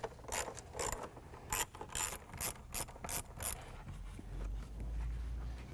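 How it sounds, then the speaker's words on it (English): Ratchet loosening the two clamps on the air box and air intake of a 2014-2015 Ford Fiesta ST, a quick run of sharp clicking strokes in uneven bursts, close, then a low rumble. "Now we're going to loosen up the 2 clamps on the air box and the air intake."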